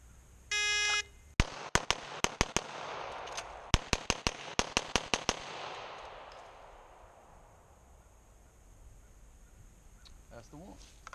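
Pistol shots from a single-stack handgun in a 1-5 drill with a draw and reload: a shot timer beep, then three quick shots, a pause, then a fast string of cracks that fade into outdoor quiet.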